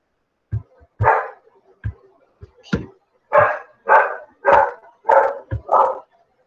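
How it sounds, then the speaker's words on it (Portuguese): A dog barks about eight times in an uneven series, each bark sharp and moderately close, with short gaps between them and no talk over it. "Meu cachorro tá lá, latindo, atrapalhando a gente aqui."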